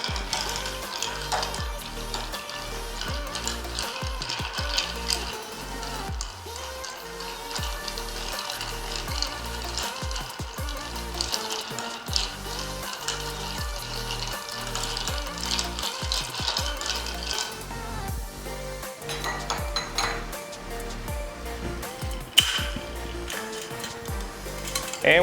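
Ice stirring in a mixing glass while an Oaxaca Old Fashioned cocktail is made, a steady busy clatter of cubes against glass that runs the whole stretch at moderate level with no talk.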